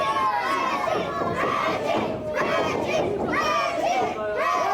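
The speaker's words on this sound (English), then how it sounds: "Everybody cheering for Reggie Cassidy" A wrestling crowd cheers and shouts loudly throughout an indie rasslin' event, with excited voices and chants rising and falling continuously over several seconds.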